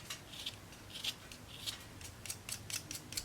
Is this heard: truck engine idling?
no